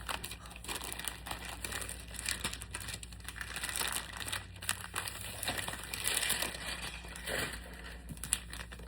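Close, continuous crinkling and rustling of plastic packaging as a handbag is unwrapped from its package, soft and steady with no one talking.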